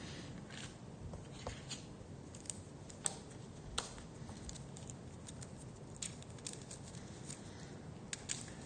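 A deck of game cards from an Oathsworn board game being shuffled, faint rapid riffling patter with occasional sharper clicks, quiet and close, no voices.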